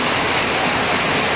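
A heavy, continuous rush of water pouring down, loud and close, a dense unbroken wash with no gaps and no voices over it.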